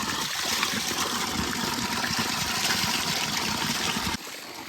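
Steady, loud rush of a natural spring flowing nearby in the Uttarakhand hills, continuous until it drops off abruptly near the end.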